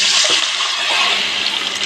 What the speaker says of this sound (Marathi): यात आपण टाकूयात डाळ.